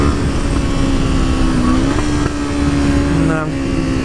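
A Suzuki GSX-R sport motorcycle engine drones loudly and steadily while riding a mountain road, with pitch shifts as it changes gear, mixed with wind and a rider talking over it.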